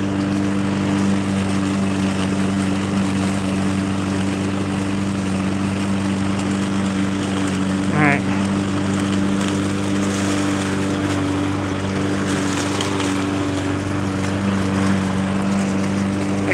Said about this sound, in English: this lawnmower is about 5 years old. Never done maintenance on it. Probably needs a tune-up.